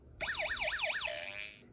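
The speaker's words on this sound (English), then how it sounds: "you'll hear a siren that quickly fades away as the LED turns off" An electronic siren from a Snap Circuits Extreme SC-750 kit warbles up and down a few times, then settles into a steady tone that quickly fades away as an LED turns off.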